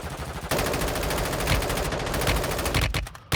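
Rapid machine-gun fire in the mobile shooter Warzone Mobile, a loud, dense burst of evenly spaced shots lasting nearly three seconds before a few scattered final rounds, with no talking.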